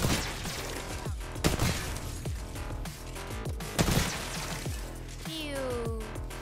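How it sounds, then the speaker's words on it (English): Heavy explosions and rapid gunfire from a video game shooter fill a dense, continuous battle mix, with repeated booming blasts and crackling shots and a rising whistle near the end. "Be careful, don't let the grenade hit you."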